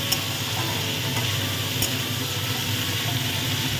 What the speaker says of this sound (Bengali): আমি একটু নাড়াচাড়া করে দিচ্ছি